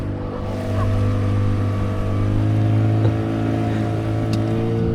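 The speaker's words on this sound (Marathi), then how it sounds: "आपली बोट निघाले." A boat engine drones steadily as a fishing boat sets off to sea off Malvan, a low continuous hum that swells slightly and holds.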